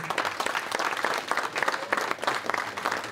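An audience at a fight event applauds a fighter, a burst of crowd clapping with distinct individual claps rising and falling over a few seconds.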